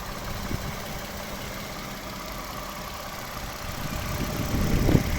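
A 2011 Toyota Camry's 3.5-litre V6 petrol engine idles steadily up close with an even mechanical hum, growing slightly rougher and louder near the end; no one speaks.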